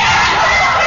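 A packed high school basketball crowd roars and shouts at a game between Leboldus and Walter Murray, a dense, steady wall of cheering with young voices shouting over it throughout.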